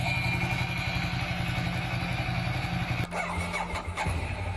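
A Ducati motorcycle engine runs with a steady, rumbling idle, then shifts briefly at about three seconds before the same running sound returns, fairly close and loud throughout.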